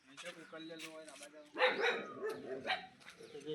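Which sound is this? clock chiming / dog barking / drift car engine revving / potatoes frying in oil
dog barking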